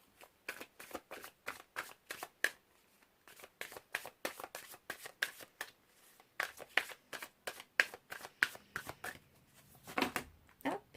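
Tarot cards being shuffled by hand, a close, quiet series of crisp riffling flicks in a steady rhythm with brief pauses between bursts.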